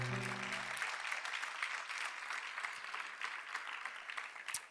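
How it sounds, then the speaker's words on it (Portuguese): A church congregation applauding during a sermon, a continuous, moderately distant patter of many hands clapping at an even level after a short sung or spoken tone at the start. "aplauda o Senhor"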